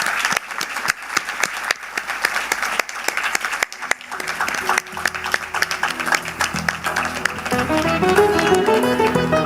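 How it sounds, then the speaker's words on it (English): An audience at a foundation day celebration breaks into applause, loud dense clapping for several seconds before music swells in underneath and the clapping fades. "Can we have a huge round of applause for sir?"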